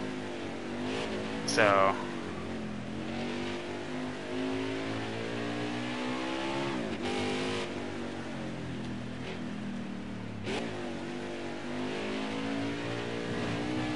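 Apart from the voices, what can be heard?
race truck engine revving during a lap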